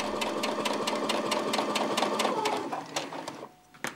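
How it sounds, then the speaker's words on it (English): A sewing machine stitching a seam at reduced speed, a close steady mechanical whir with a rapid regular needle tick, slowing and stopping near the end. "got on this machine where I can decrease the speed and can't accidentally go too fast"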